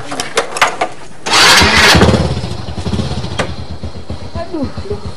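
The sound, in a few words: motorcycle engine starting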